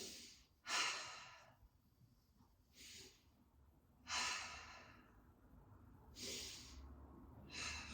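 Slow, audible breaths during a pilates bird dog hold, drawn in and pushed out in soft hissing bursts every couple of seconds, close and quiet against faint room noise.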